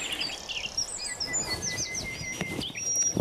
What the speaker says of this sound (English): Hear that one bird over there?